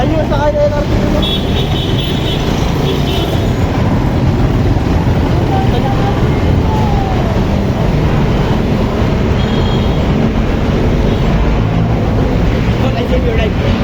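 An LRT light rail train rumbles past nearby with a steady low roar of wheels on track, a faint squeal now and then, and voices chatting underneath.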